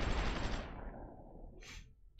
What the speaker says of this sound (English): Our artillery is now hitting the Cuban military.